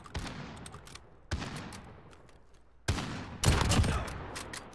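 Kar98 rifle fire in a Modern Warfare free-for-all match, heard as a few sharp gunshot bursts with echoing tails, spaced a second or two apart and growing louder toward the end.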